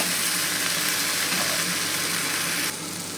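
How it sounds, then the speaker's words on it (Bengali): Spice paste for a rohu fish curry sizzles steadily in a pan as it is sautéed, a loud, dense frying hiss that runs without a break and drops slightly in level near the end. "তো আমি এটা বেশ খানিক্ষণ কষিয়ে নিলাম আর মশলার কাঁদা ভাবটাও চলে গেছে"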